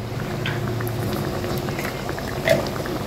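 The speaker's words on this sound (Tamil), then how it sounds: "நல்லா கொதிக்குது பாருங்க" A steady bubbling boil of beef brain gravy in a pan, continuous low gurgling with small pops, no voices.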